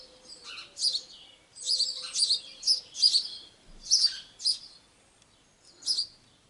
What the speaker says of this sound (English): These, of course, are house sparrows.